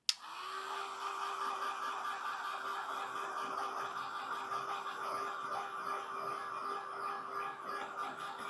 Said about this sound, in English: I'm going to hit it with my heat gun hairdryer thing